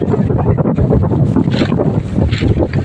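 Seaside wind gusts and buffets the microphone in loud, continuous rumbling bursts, with the rush of surf and open water beneath.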